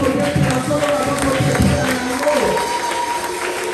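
Church congregation applauding and cheering together in praise, a dense sustained wash of clapping and shouts at close range, with a voice heard over the crowd.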